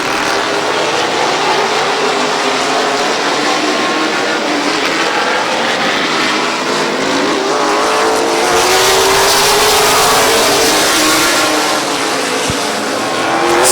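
Race cars battle around the Midvale Speedway oval, the roar of several engines blending into a steady, loud, continuous drone with a slight swell as the pack passes closer.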